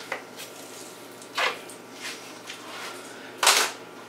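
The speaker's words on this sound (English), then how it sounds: "I got to pump some water in first." A hand water pump is worked in a few uneven strokes, each giving a wet, squishy gush or suck of water, with the last stroke loudest and the others softer against a quiet background.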